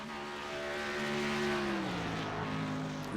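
Race cars circulate on track in a racing video game league broadcast, a sustained engine drone with pitch that holds and then drops as the cars pass, moderately loud with no talk.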